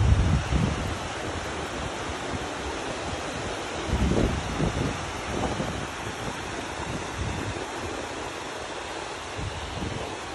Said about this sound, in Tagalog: That's the waterfalls.